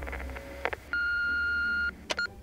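Telephone keypad tones beep as a pizzeria's number is dialed, a few short presses followed by a long steady tone and more quick beeps, clear and close.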